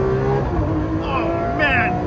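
A loud Lamborghini Aventador SV engine revs hard, climbing in pitch with a couple of abrupt shift breaks from second to third to fourth gear, heard close from inside the cabin.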